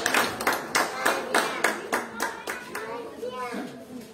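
Audience applause at a marimba course closing ceremony in Jacaltenango, steady rhythmic clapping from a modest crowd, with a voice speaking near the end.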